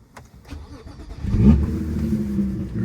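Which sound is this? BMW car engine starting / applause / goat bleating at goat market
BMW car engine starting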